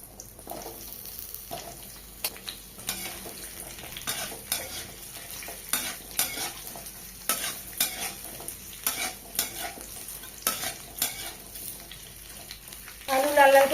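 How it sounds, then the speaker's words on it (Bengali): Cut potatoes frying in leftover fish-frying oil with bay leaves and panch phoron, stirred repeatedly, a steady sizzle broken by regular scraping strokes of a spatula up close, with a brief clatter near the end. "আলু লাল লাল করে ভেজে নিয়েছি"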